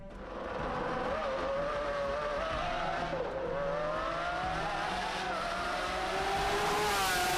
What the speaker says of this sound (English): first and foremost, we gotta see what this car actually sounds like